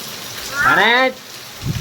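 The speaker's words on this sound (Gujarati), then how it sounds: "હવે વરસાદ ચાલુ છે" Steady rain hiss fills the background throughout, with a short voiced call rising over it midway.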